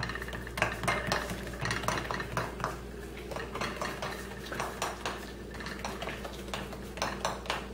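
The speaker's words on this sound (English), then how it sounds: "I'm just going to stab the tops of the cupcakes all over with my cake tester" Cupcake tops stabbed all over with a cake tester, a rapid series of light, close taps and clicks against the pan in a quick, uneven rhythm.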